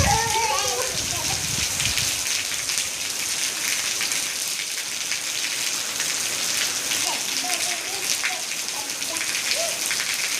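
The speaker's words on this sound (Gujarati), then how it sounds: "સારો આવી ગયો વરસાદ" Rain falling steadily in a village, a dense, even patter on surfaces all around, close and constant, with faint voices briefly audible at the start.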